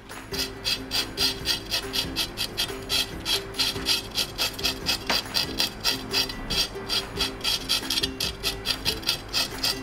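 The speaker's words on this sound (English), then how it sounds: "let's remove the scale all over the body" Knife blade scraping scales off a whole horse mackerel, alternating between the tip and the heel of the knife. Steady, rapid rasping strokes come in an even repeating rhythm, close and fairly loud, with no talk.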